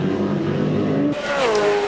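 Touring race cars at Lakeside circuit in the 1996 Australian Touring Car Championship, engines droning steadily at speed, then a car's pitch sweeping down and back up as it passes, loud and close throughout.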